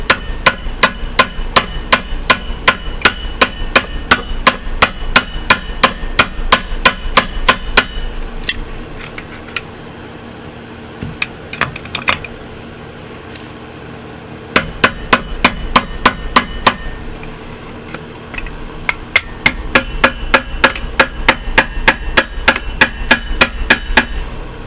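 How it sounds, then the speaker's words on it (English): Rapid, steady metallic hammer taps ring out in fast bursts on a 1995 Ford F-150, pausing briefly in the middle before the quick tapping resumes, close and bright. "Put the hammer down in the grease. Almost. A few more little taps."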